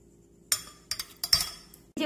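Spoonfuls of boiled tapioca pearls going into a glass for a boba drink: a few sharp, close clinks of a spoon against the glass, spaced irregularly, over near silence.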